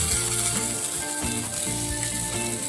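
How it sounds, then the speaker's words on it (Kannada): Green chilies added to frying onions in hot oil for a chicken gravy, giving a steady close sizzle throughout with faint stirring clinks and a low background hum, no talking. "ಈರುಳ್ಳಿ ಒಂದು ಸ್ವಲ್ಪ ಫ್ರೈ ಆದಮೇಲೆ ನಾನು ಇದಕ್ಕೆ ಹಸಿಮೆಣಸಿನಕಾಯಿ ಹಾಕ್ತಾಯಿದ್ದೀನಿ"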